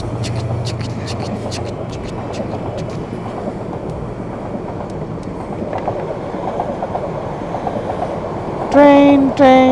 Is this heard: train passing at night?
yes